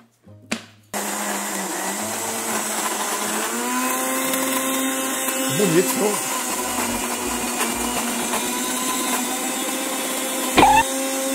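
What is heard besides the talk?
blender mixing ice cream ingredients with cinnamon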